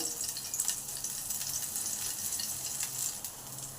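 Chopped green chilies and grated ginger sizzle in hot oil in a tadka pan, a steady close crackling hiss that runs throughout.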